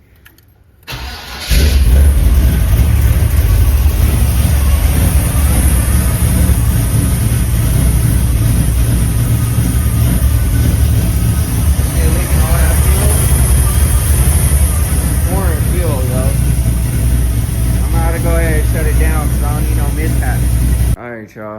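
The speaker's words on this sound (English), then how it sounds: "it started right up because that wasn't a cold start" A Chevrolet El Camino engine cranks and catches after a brief quiet start, then settles into a loud, steady idle that runs on for about twenty seconds, with a voice talking over it.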